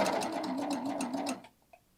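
A Babylock serger stitches and trims fabric in a fast, even rattle of rapid needle strokes for over a second. It stops abruptly, followed by a single faint click.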